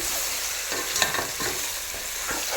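Mutton being mixed with oil in a hot pan, a continuous close sizzle with a few soft stirring scrapes and a brief louder clatter near the middle, no voices.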